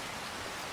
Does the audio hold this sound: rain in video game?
yes